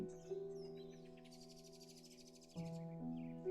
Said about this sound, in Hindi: कुछ पक्षियों की आपको आवाजें सुनाई देगी।